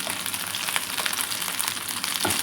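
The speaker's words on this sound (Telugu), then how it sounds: "చికెన్ ఫ్రై అయిపోయింది" Chicken frying in a pan for butter garlic chicken, a steady dense sizzle with crackling pops throughout, close and fairly loud, no talking.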